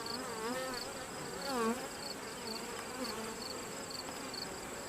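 A steady, close buzzing hum from honey bees at a hive, with individual bees droning past and swelling briefly, sustained throughout at moderate volume and with no talking.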